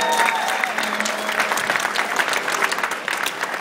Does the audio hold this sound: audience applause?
yes